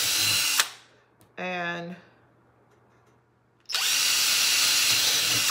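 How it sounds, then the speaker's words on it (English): A handheld power drill bores into wood in bursts: a loud whirring run that cuts off, a brief higher whine in the middle, then another sustained drilling run close to the mic, with a few words spoken between. "drilling wood like I'm doing right now"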